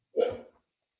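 A single short bark from a Labrador indoors at home, one sharp burst fading within half a second, fairly close and moderately loud with no talk over it.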